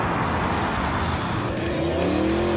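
A Mercedes-Benz SLS AMG Roadster's AMG engine pulls hard, its close, steady roar climbing in pitch toward the end as the car accelerates on the road, with no one talking.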